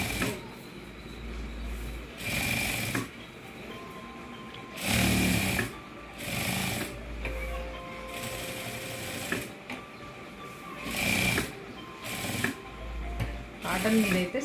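Sewing machine stitching the lining of a blouse in bursts, each run of rapid mechanical whirring lasting a second or two, with pauses between where the fabric is adjusted, close and fairly loud.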